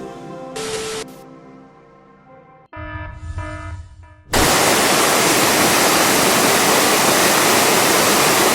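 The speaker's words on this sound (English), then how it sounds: "this mysterious waterfall is completely real." A waterfall sets in after a few seconds of tonal music and becomes a loud, dense, steady roar of rushing water that fills the rest of the clip, with no voices.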